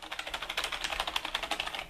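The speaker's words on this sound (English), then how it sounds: "if you listen to the actual keyboard sound, it is very nice. You can hear the tactile feedback" Typing on an Etekcity Scroll K9500 gaming keyboard, a quick run of crisp, firm tactile key clicks in close succession, moderately quiet and heard alone.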